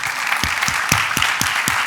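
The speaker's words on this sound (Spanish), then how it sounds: "Un aplauso, sí." An audience at a conference session on producing and conserving natural landscapes breaks into brief, dense applause, many hands clapping together up close.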